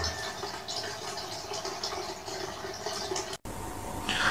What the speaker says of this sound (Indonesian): dengan posisi pancuran air di belakang mic